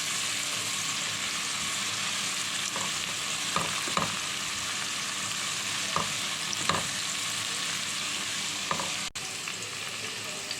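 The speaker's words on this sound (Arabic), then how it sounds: "شوفوا كده شوحت التومة مع الفلفل" Garlic and pepper sautéing in a pan for a shrimp mabkbka dish, a steady loud sizzle with a few scattered stirring clatters and scrapes throughout, no voices.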